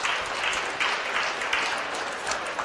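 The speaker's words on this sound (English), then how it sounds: "Let's give her a round of applause." A room applauds steadily for a student elections officer at an election results announcement, the clapping dense and sustained throughout with no one speaking over it.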